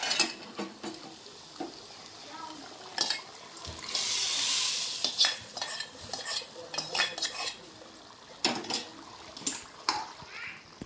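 Chickpeas for chole are stirred in a pan after tempering, a metal spoon scraping and clinking against the pan in irregular bursts, with a soft sizzle underneath and close, fairly loud strokes.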